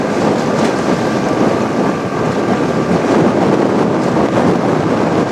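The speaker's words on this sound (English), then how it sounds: "Windy." Steady wind roars across a riverside salmon-fishing spot near eel traps, a continuous broadband rush buffeting the microphone with no pauses for the whole stretch.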